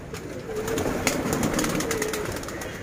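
Saharanpuri pigeons coo softly and repeatedly at close range, a low murmuring call with faint rustling behind it and no talking.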